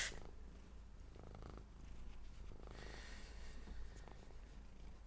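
A cat purrs steadily and faintly close by, a soft continuous low rumble with slight breathy pulses and no talking.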